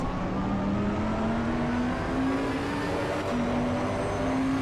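A racing car engine in Assetto Corsa Competizione holds a steady, loud drone with a slowly rising pitch as it accelerates, alone with no talk.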